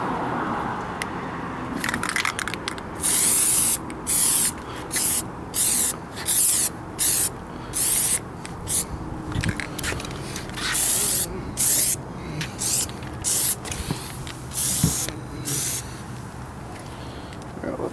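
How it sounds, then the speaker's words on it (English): Repeated bursts of Plasti Dip aerosol spray hissing onto a Honda Prelude's mirrors, each lasting about a second with short pauses between, steady and close over a faint low background rumble. "So now we're gonna spray coat number 3 on both mirrors."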